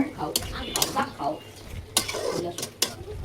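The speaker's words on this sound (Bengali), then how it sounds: "এই তো আমার রান্নাটা হয়ে সেটাকে কষানো হচ্ছে।" A spoon scrapes and clinks against a pan while Malabar spinach and shrimp curry is stirred and fried down, close and uneven with a few sharp metallic knocks and a soft simmer underneath.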